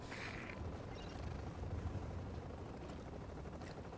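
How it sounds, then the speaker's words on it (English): A helicopter sets down in the video game The Division, its rotor producing a steady, dense low chopping rumble. Faint mechanical clanks and whooshes sit over it. "we're putting the chopper down"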